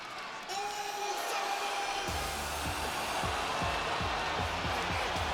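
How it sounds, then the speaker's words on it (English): A crowd cheers steadily in a wrestling video game arena, a continuous loud roar with a rhythmic pulsing thump beneath it from about two seconds on. "The crowd on their feet."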